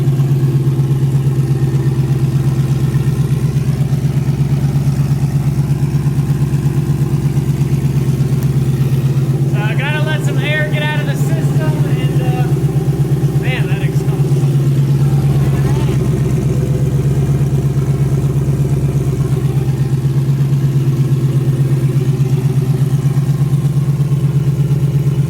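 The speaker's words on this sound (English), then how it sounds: "then we're gonna start the car and check for leaks" A Mustang race car engine idles steadily close by, a deep, even, droning hum with a constant low throb, while brief clattery rattles and a few quick mechanical clicks pop up partway through.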